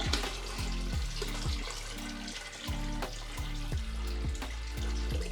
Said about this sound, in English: We're gonna grab the hot water from the sink, pour it in here without the clothes inside.